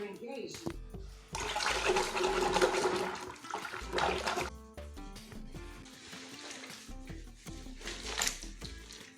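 Tap water runs and splashes steadily to soak a white crochet wall hanging, close and fairly loud with brief pauses and surges in flow.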